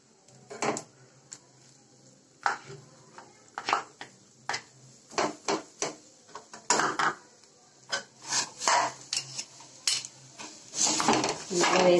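A spoon scrapes and knocks against a pan while dry fruits and date paste for laddu are stirred together, giving irregular, closely spaced clinks and rubbing scrapes, close up with no talking.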